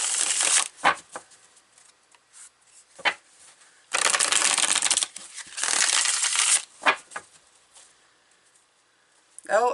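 Tarot cards are shuffled by hand in several crisp, riffling bursts, two of them long and sustained. Quieter taps and card handling fill the gaps, all close and clear.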